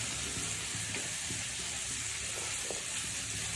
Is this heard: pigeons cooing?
no